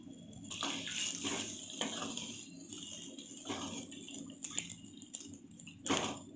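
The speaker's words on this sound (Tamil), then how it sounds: "மொச்சக்கொட்டை வேக வச்சு வச்சுருக்கேன். அது நான் இதோட சேர்த்துக்கிறேன். வேக வச்ச தண்ணியோடு சேர்த்துக்கிறேன்." Cooked broad beans are poured with their cooking water into a pot on the stove, giving faint, soft wet splashes and squelches. No one speaks.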